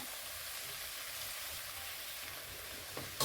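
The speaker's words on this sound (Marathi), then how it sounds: "भाजी छान अशी मसाल्यात परतून घेऊया" Steamed cluster bean sabji is sautéed in a tomato masala, a continuous even sizzle and hiss throughout, ending with a brief clatter of stirring.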